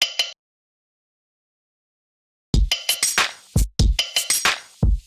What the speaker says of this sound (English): The next sound I have here is this little cowbell thing, which sounds like this.